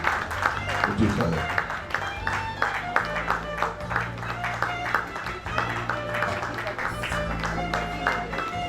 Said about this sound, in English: Please a round of applause for Mr. Tolu